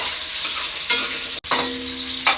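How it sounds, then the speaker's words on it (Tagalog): Carrots fry loudly in a hot pan for a beef kaldereta, with steady close sizzling and stirring scrapes, a brief cut of silence midway, then the bright hiss returns. "So lutuin natin itong carrots muna."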